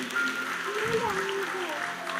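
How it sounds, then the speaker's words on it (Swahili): A church congregation at a live Sunday service applauds, the clapping a soft, fairly steady patter held under a sustained voice or musical tone that carries over it. "wapigieni makofi mengine"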